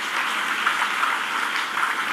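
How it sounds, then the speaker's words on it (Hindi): Audience applause fills a hall during a Hindi religious discourse, a dense, even clatter of many hands clapping together, sustained and fairly loud, with no voices over it. "तुम ताली बजा रहे हो।"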